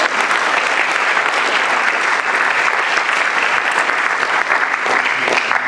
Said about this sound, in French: On applaudit Jean-Jacques Lienne